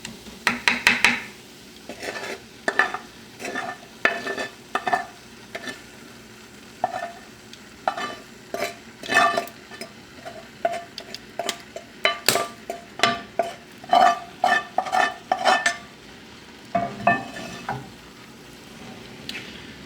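A utensil scrapes and stirs okra in a tomato sauce in a pan, with a quick, irregular run of close, loud clacks and scrapes over a faint simmering sizzle, and no talking.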